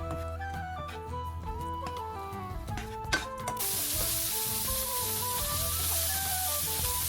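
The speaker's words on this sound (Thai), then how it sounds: "เริ่มตั้งกระทะแล้วก็นำหมูสามชั้น ลงไปกลิ้วเลยครับ ให้น้ำมันเขาออกมาเลยนะครับ" Sliced pork belly hits a hot pan and begins frying to render its fat, a loud steady sizzle that bursts up midway and holds under music.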